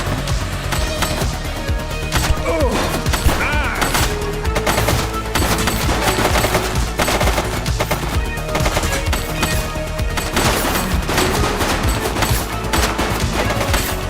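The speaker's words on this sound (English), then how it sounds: "She's shooting!" Dense, sustained gunfire from the video game The Precinct, loud and continuous with rapid bursts and shots layered over a busy game soundtrack throughout, without speech.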